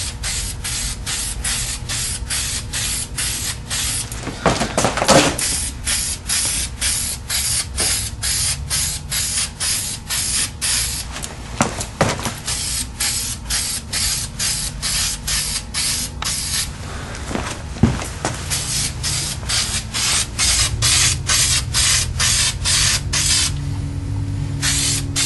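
An aerosol can sprays paint onto a chrome wheel barrel in repeated short hissing bursts, close and loud, with brief pauses between passes and no talking.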